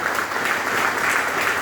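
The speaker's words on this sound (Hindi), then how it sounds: "एक जोरदार तालियां।" Steady, loud applause from a seated audience at a business motivational gathering, a continuous wash of clapping with no break.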